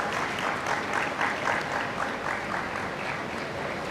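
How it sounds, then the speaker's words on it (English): An audience at a university symposium session applauds a guest being introduced; moderate, continuous clapping from many people with a gentle rhythmic swell, no talking over it. "Big round of applause."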